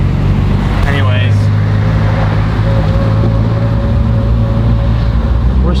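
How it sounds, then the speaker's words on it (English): Car idling in slow road traffic on a hot, humid, wet day, a loud steady low engine drone with a constant hum, a voice talking faintly over it. "we're stuck in traffic for a while longer"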